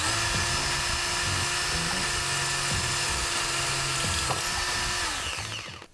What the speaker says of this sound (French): Et maintenant je vais faire un trou en bas de la barre pour pouvoir y mettre une cosse et y brancher un fil de terre.